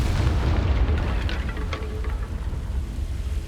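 Confringo fire spell detonating in Hogwarts Legacy, a loud low booming explosion with a rumbling tail and crackling debris fading over a few seconds.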